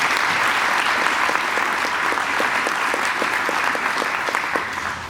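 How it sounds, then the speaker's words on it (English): An audience at a Chamber of Commerce annual meeting keynote claps steadily for several seconds, a dense wash of hands with a few sharper individual claps standing out, fairly distant. "Let's give him a round of applause, please."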